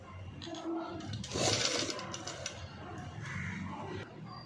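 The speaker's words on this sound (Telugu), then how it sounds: "బక్రం పక్క నుంచి స్టిచ్ అనేది నీట్గా వేసుకోవాలి" A sewing machine stitches stiff buckram around the neckline of a sleeveless cut-work, padded blouse, running in a steady mechanical whir. The whir rises and falls across several seconds at close range with light background noise.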